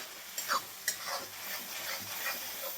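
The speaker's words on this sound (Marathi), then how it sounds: "कांदा टोमॅटो भाजून घ्यायचा आहे" Onion and tomato roasting in a pan for a vegetarian matar kheema, with a quiet sizzle under soft scraping and stirring strokes of a spoon, a couple of light clinks near the start.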